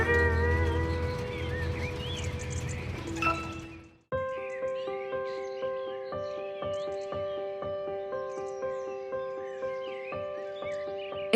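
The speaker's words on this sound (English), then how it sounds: "The sound of the birds woke Mr. Fox up." Birds chirp and trill through a bright spring-morning scene in an animated children's story, a steady run of repeated calls over a sustained musical backdrop.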